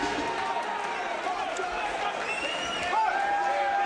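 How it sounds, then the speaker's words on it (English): Supporters cheering at a charity boxing match, a continuous crowd roar with scattered shouts and claps that swells slightly near the end. "there's the Trudeau camp cheering on their man"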